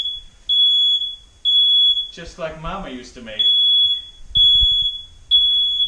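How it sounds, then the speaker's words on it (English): A piercing smoke alarm beeps in a repeated pattern of long tones, briefly interrupted by a voice speaking between the beeps. "it may even take a while for the smoke alarm to stop going off"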